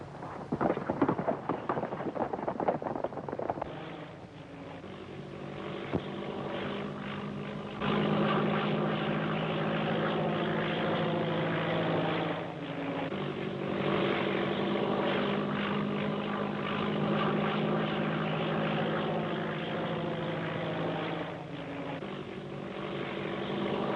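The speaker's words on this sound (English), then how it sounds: "where's this plane coming from?" A propeller plane flies overhead, first heard as rough rattling, then as a sustained throbbing engine drone that rises and holds loud, from a 1930s film scene.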